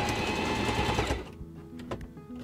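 Singer 4411 heavy duty sewing machine sewing a wide, long zigzag stitch, a dense rapid mechanical whir running loud and close for about a second before stopping, leaving faint clicks and handling sounds.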